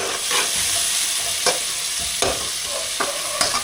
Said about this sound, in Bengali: এখন যে পেঁয়াজ ছেড়ে দিল তেলে এটাকে কি করবেন ভাজা করবেন